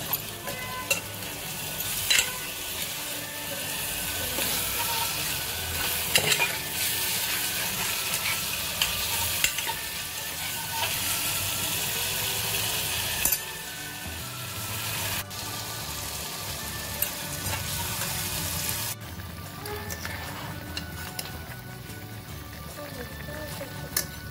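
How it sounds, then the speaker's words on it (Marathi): Whole spices and val beans fry in hot oil with a continuous, bright sizzle and intermittent stirring clatter, and a voice talks over the cooking. "मस्त आपले खडे मसाले भाजून झालेले तेलामध्ये फ्राय झालेले आहेत।"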